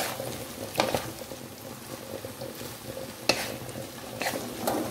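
A fruit pickle mixture is stirred by hand in a container, giving wet squelching and sloshing with a few sharper scraping knocks, close and steady with no talk.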